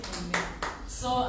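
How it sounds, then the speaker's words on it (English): A congregation claps their hands at a church conference, a few sharp broadband bursts spaced through a short stretch alongside a voice. "Clap hands for Jesus, Babalama. Clap hands."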